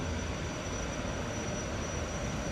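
A jet-engine powered fast passenger ship in Japan gives off a steady, dense roar like a running aircraft engine, close and continuous with no voices over it.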